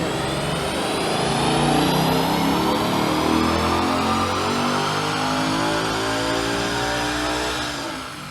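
A 1UZ V8 swapped into a Ford Focus revs hard on a dyno in fourth gear, a loud continuous engine roar climbing steadily in pitch for about eight seconds before easing off at the end.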